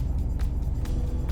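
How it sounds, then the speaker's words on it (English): A steady low engine drone fills the cabin of a Volvo V40 R-Design, a constant muffled hum without speech. "there's a little bit of an engine noise in the cabin"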